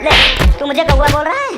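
Two sharp, loud slaps crack out during a comedic classroom skit about handing back exam papers, each a quick smack mixed in with an angry, shouting voice.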